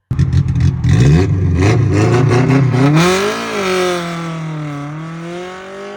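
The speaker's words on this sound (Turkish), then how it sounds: "İşte aracın sesi falan var." A Tofaş car engine starts with a clattering burst, then revs hard, its pitch sweeping up and falling back to a rough idle, loud and close.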